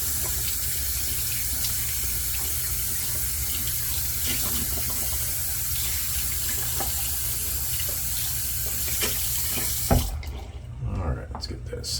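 Water pours steadily from a tap to rinse out a shaving soap tub, a constant splashing rush that cuts off abruptly near the end, followed by a few faint handling clunks.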